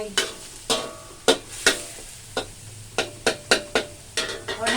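Wide rice noodles stir-fried with minced chicken and kale stems in a hot pan: a run of sharp, rhythmic scraping tosses, about a dozen in quick succession, over a continuous close sizzle.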